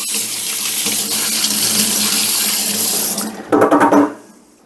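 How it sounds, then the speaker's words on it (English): Kitchen tap water runs steadily into a sink while a hand is rinsed, a loud close gush that breaks into splashing before shutting off and fading. "let me rinse my hand off."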